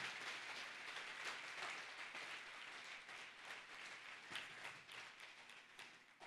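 A church congregation applauding, with sustained, dense clapping that fills the room, fairly distant and faint, easing slightly toward the end.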